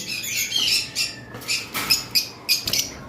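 Green Fischer's lovebirds squawk in a rapid series of sharp, close bursts, about eight loud shrill calls in quick succession with no talking.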